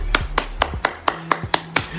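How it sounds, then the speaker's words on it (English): Audience clapping in slow, even unison, eight sharp claps spaced about a quarter second apart, close and fairly loud with a low hum underneath. "Clap it up for me, y'all."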